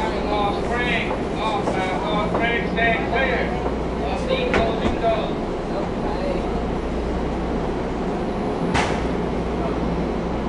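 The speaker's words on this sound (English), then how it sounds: "This train is bound for North Spring Station." A MARTA subway train runs through Atlanta, a steady low rumble and rail hum with squeals and clanks, recorded from inside the car with a recorded announcement voice over it.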